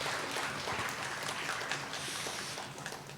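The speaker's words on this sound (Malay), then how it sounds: "kita berikan satu tepukan yang paling gemuruh buat ketiga-tiga entiti ini" A crowd at a university launch ceremony in Malaysia claps steadily for a few seconds, a dense, even patter of applause that tapers slightly toward the end.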